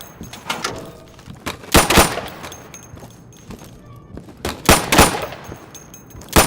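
Gunfire during a close-quarters room-clearing shooting exercise in the game Insurgency, sharp loud shots in irregular bursts and single cracks, with quieter thumps and movement between them.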